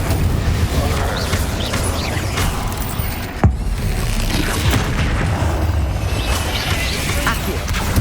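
A fire spell cast in the Hogwarts Legacy video game, heard as a sharp burst over continuous busy combat effects and rumbling booms amid a dense magical battle.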